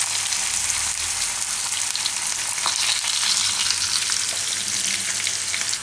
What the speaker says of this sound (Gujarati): થોડીક વાર મરચાંના મસળી લેવાના તેલમાં. અડધીક મિનિટ માટે આમાં પકાવી લેવાના.